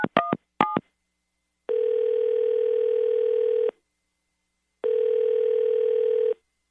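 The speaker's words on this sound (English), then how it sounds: "I'm going to dial him right now." A few quick touch-tone beeps from dialing a telephone, then two long steady ringback tones separated by a gap of silence, clear and close on the line.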